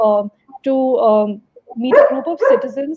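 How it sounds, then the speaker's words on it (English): A puppy barks and yips in short bursts in the background while a person speaks over it. "if you can hear barking, that's not me."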